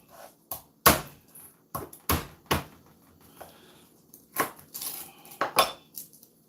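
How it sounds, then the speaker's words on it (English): A knife thuds against garlic cloves on a kitchen board, with a series of sharp knocks and clatters of cutlery and utensils, close and irregular, with no one talking. "I've got some garlic here. I'm just going to give it a quick"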